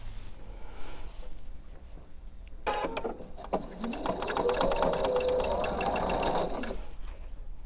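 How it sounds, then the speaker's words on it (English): A sewing machine stitches fabric strips together with a quarter-inch seam allowance, running in one steady, close, whirring burst of about four seconds after some quieter handling of the fabric. "I'm going to sew this with my 1/4 inch seam allowance."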